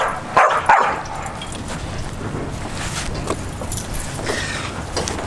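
A pet dog barks twice close by at the start, then lets out faint whines and yips over steady indoor background noise.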